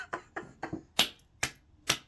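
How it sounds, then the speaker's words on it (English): Six sharp hand claps ring out one at a time in an irregular rhythm, close and crisp with silence between them. "Clap my hands."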